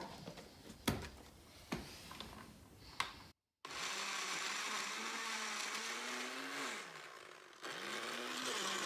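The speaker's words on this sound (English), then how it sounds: "Black and Decker blender blend frozen fruits?" A Black and Decker blender blends frozen fruit. A few sharp knocks come first, then after a brief gap a loud, steady motor whir runs on, its pitch wavering as the load shifts.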